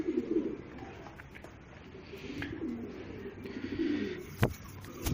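Pigeons cooing close by, soft repeated low coos over a faint background, with a brief sharp knock near the end.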